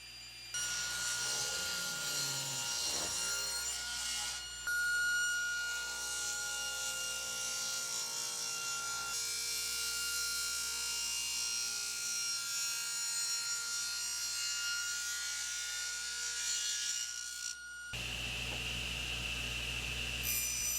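A saw cutting through wood into thick slabs for box tops and bottoms, a steady continuous rasping drone lasting most of the clip before stopping near the end.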